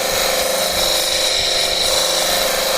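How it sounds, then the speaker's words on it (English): An electric fan runs outdoors, producing a loud, steady whirring rush of air that stays even and unbroken throughout, close to the listener, with no speech. "I have to turn my fan on, so I apologize for the ambient noise going on."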